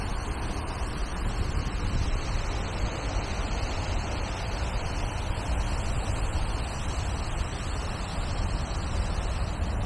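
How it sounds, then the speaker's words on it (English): A steady, dense mechanical roar with a low rumble, continuous and unchanging, from a boiler room or HVAC system running in an enclosed space at a shopping mall. "it appears to just be a boiler room or HVAC system."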